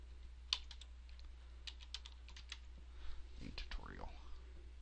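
Keys clack on a computer keyboard as text is typed in short, irregular bursts of close, crisp clicks, while a voice talks in the background.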